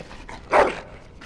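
A dog gives a single short yelp or whimper in the Dragon Age video game, a brief bright burst standing alone against quiet background.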